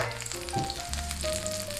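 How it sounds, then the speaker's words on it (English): Steady sizzling of okonomiyaki batter frying in a hot pan, a continuous crackle with faint tonal clinks in the background. "we'll cook the bottom side of the okonomiyaki for 3 minutes"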